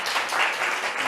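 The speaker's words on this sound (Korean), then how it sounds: "큰 박수로 환영하겠습니다" A lecture-hall audience of students claps to welcome a university president about to speak, a dense, bright burst of applause filling the room for a moment with no voices over it.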